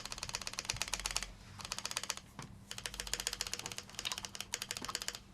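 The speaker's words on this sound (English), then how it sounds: "The space bar itself is going to be a little bit rattly because it's not soldered in yet." Fast, rhythmic typing on a custom mechanical keyboard whose space bar is unsoldered and rattly. Dense clacking bursts sit close to the listener, broken by brief pauses, with deeper thumps from the space bar, and no one talks.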